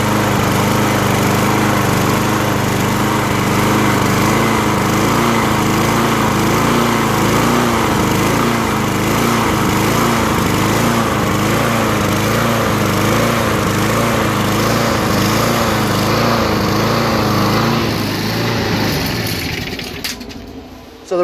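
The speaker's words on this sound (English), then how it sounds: "Still starts very well, but the reason why it surges is because there's debris in" A Murray 6 HP walk-behind push mower with a Briggs engine runs loud and close, its engine note surging in a steady rhythmic waver from debris, then cutting off near the end.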